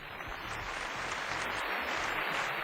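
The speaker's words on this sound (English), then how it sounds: "Give them a round of applause." An audience applauds a competing team at a televised engineering challenge. The clapping is steady and moderately faint, with dense patter throughout.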